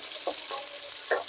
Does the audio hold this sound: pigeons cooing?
no